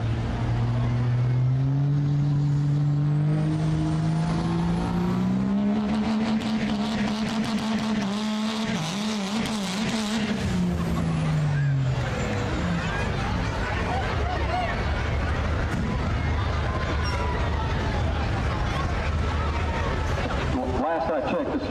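A Dodge diesel truck at a truck and tractor pull, its engine roaring loud and steady with rising pitch under the pull, then a broad rumbling drone, with an announcer talking over it.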